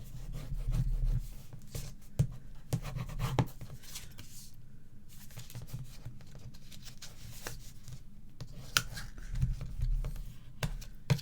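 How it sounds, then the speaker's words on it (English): Paper is folded and burnished on a folio card, giving close dry rubbing and scraping strokes in irregular bursts with soft taps between, faint and with no voices. "Fold and burnish."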